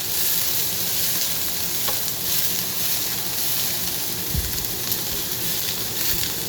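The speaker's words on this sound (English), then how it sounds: "you want to keep moving your onions around so it's getting translucent" Onions sautéing in a hot pan on the stove, a steady loud sizzle throughout with soft scraping as they are stirred around, close by with no talking.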